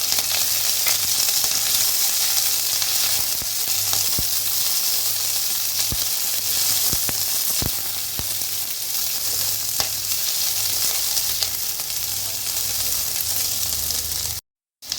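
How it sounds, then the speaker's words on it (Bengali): Medium-sized capsicum, cut into long strips, frying in a pan for chicken, giving a steady close hiss and sizzle with a few sharp clicks of stirring, no talk, before a brief drop to silence at the end. "এর মধ্যে অ্যাড করব একটা মিডিয়াম সাইজ ক্যাপসিকাম, যেটাকে আমি লম্বা করে কেটে রেখেছিলাম।"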